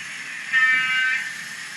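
A High Speed Train (HST) running, with a steady broad mechanical roar and a high whine that swells briefly in the middle of the short stretch, moderately loud and fairly distant, with no voices.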